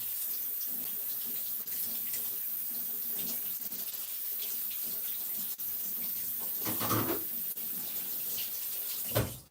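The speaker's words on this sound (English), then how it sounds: "Now let's just wash this up." Washing up at a kitchen sink under a running tap: a steady, close rush of water with splashes and clinks of dishes, continuous for the whole stretch with no talking.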